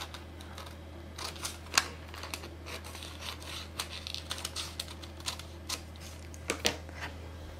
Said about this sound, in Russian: И вот здесь выточку я вырезаю.